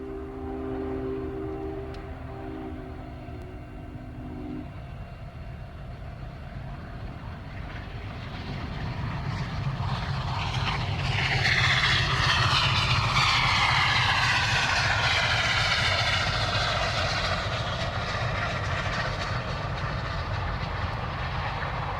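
Union Pacific 844 steam locomotive charging through Big Springs, Nebraska, building from a distant rumble to a loud, sustained roar of the passing train that stays strong to the end, with no voices.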